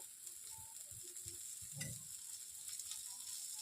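A jowar dosa fries with a little oil on a pan, giving a soft continuous sizzle with a few light scraping and tapping touches and one brief louder clink near the middle.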